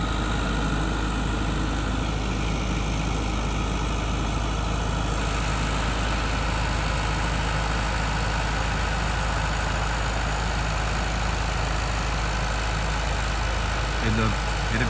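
A 385 tractor idles with a 66-cutter rotavator hitched behind, giving a loud, steady, low engine drone that stays constant throughout with no breaks.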